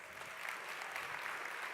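A downtown Phoenix audience gives a round of applause, a steady wash of many hands clapping, fairly faint and distant, continuous throughout with no talking.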